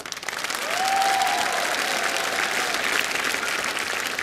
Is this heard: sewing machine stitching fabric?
no